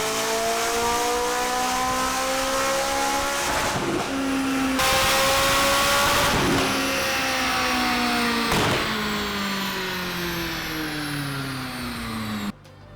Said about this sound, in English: I'm gonna drop it in the video right here so you can see what the car actually sounds like and looks like when it's on the dyno